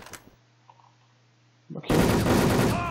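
Gunfire in the online shooter Wolfteam, arriving as a sudden loud sustained burst of rapid shots after a quiet stretch with brief speech at the start.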